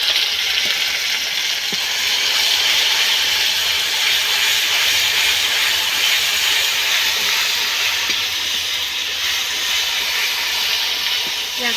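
Chilli paste sizzles in hot oil at the start of a home-cooked meat curry, giving a loud, steady frying hiss that holds without a break from start to finish.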